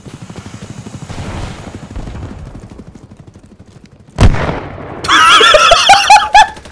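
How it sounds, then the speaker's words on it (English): A flashbang in a video game goes off as one sudden, loud, close blast, cutting through a rumbling game background. Loud shouting follows it. "I heard an explosion."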